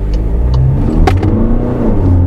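A 2024 VW Passat 2.0 TDI diesel with 150 hp briefly spins its wheels while pulling away, heard from inside the cabin as a steady low engine drone with a short sharp burst of noise near the middle.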